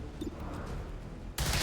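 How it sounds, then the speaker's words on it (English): Dense burst of gunfire in the Overwatch video game, starting abruptly near the end as loud continuous shooting over a low rumbling game background. "Just shoot all the bullets downwards at them."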